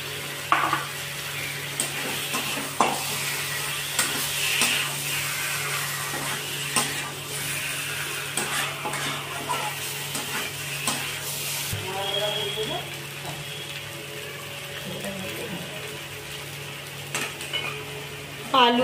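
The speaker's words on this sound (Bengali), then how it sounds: "আলুটা কষে নেওয়া হয়েছে," Potatoes sauté in ghee in a pan, a soft sizzle broken by the scrape and clink of a utensil stirring, with occasional talking in the background.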